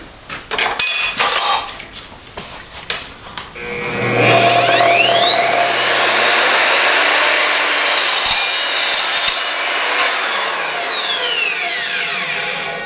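An Evolution R255SMS sliding mitre saw cuts through aluminum angle: a rattle of handling, then a loud sustained whine as the blade spins up and bites, with ringing metallic overtones that fade as it winds down.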